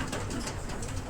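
A racing pigeon coos in a loft amid a dense, noisy room background, its soft murmuring fairly faint and continuous over the short stretch.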